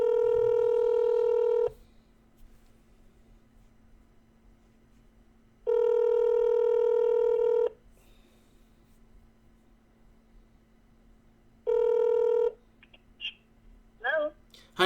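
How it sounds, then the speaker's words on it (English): Telephone call tones ring out in three long, loud, evenly spaced bursts of about two seconds each, separated by quieter gaps over a faint steady hum, with a few brief scraps of voice near the end. "See if he answers the phone."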